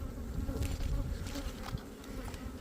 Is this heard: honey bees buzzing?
yes